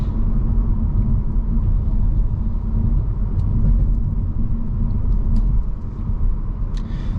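A 2023 Audi A4 45 Prestige with a dual clutch transmission accelerates in dynamic mode, heard from inside the cabin as a loud, steady low engine and road rumble that holds throughout with no talk.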